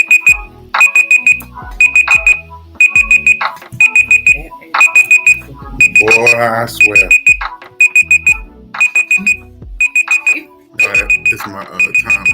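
A timer alarm ringing in rapid repeated beeping bursts, loud and regular throughout, with people talking and laughing over it.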